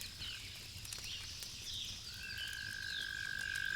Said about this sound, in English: That's so odd, as it sounds like it's a toad.